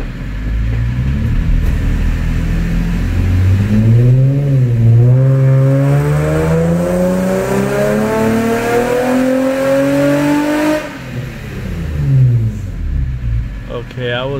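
A car running lean on a dyno during a baseline pull, with the differential set up, revs loudly and steadily rises in pitch for several seconds, then abruptly drops off as the pull is cut short.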